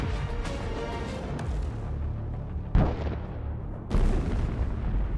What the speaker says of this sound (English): There is a very strong explosion, and the target is burned to the ground.